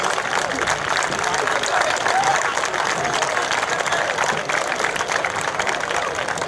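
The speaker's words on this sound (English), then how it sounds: "help us kick off tonight's Invitational Finals by giving a round of applause" A crowd at a high school track and field invitational meet applauds in a sustained, dense wash of clapping that stays steady and loud from start to finish.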